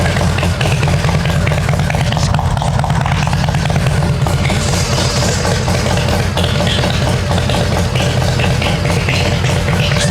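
A motorcycle engine idling high while an old bike is brought back to life, a loud, steady, dense rumble with constant mechanical rattle throughout, close and unbroken, no voices.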